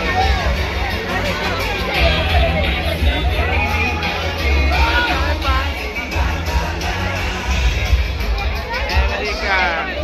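A dense crowd throngs a Durga Puja pandal at Santosh Mitra Square near Sealda, Kolkata, a steady close hubbub of many overlapping voices and shouts, while a person talks over the babble.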